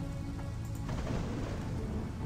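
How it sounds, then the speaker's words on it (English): Steady rain in the video game I Remember the Rain, a constant dense hiss of falling drops with a low rumbling undertone, soft and even throughout with no voices. "It rained like crazy."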